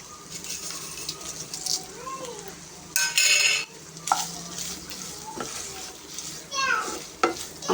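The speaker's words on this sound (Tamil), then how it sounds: "இப்போ நம்ம என்ன செய்வோன்னா காஞ்ச மிளகாயும் கருவேப்பிலையும் இப்போ சேர்க்கணும்." Dried red chillies and curry leaves crackle and sizzle in a pan with mutton for uppu kari, with utensil scrapes, a sharp burst of frying, and a cat meowing several times nearby.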